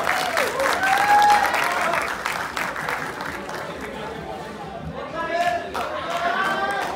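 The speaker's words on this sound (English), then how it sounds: "So give yourself an applause" Graduates clap for themselves at a university convocation ceremony, a broad, steady wave of applause mixed with crowd chatter and voices talking over it.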